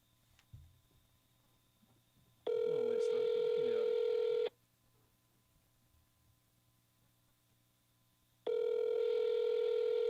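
A telephone call rings out on the line, two long electronic ring tones separated by a pause of several seconds, loud and clear with no voices over them.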